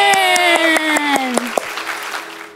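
An audience at a children's church lesson claps together in a rapid rhythmic burst, fading quickly, with a voice singing or speaking over the start.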